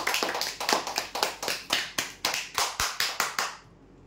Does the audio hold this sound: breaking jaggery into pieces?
no